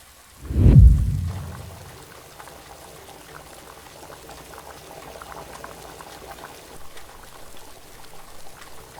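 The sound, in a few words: heavy rain outside the window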